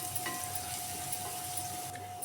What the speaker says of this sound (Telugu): అది పచ్చి వాసన పోయే వరకు ఫ్రై అవనివ్వాలి.